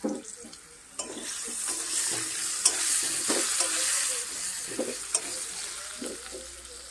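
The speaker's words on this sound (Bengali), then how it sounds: "তো গাইস এরকম মাংসটা কষাতে দিয়ে দিয়েছি, মাংসটা কষিয়ে নিব।" Chicken pieces being stir-fried (kosha) in a pan for a Bengali home-style curry, with loud, close frying hiss and irregular scraping strokes of a spatula throughout. No one speaks.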